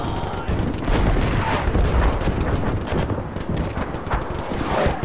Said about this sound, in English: Come on, artillery shells are coming!